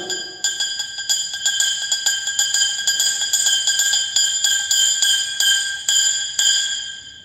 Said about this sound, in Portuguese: Aí vai diminuindo a força até parecer que o sino sumiu e depois começa a aumentar de novo.